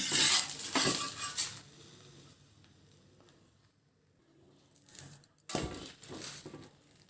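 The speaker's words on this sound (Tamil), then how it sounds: "நான் கொஞ்சம் கூட ஆயில் சேர்க்காமல் தோசை விட்டு காமிக்கிறேன்" Dosa batter cooking on a hot pan with no oil, giving soft sizzling with clinks and scrapes of a metal spatula against the pan in two bursts, quieter in between.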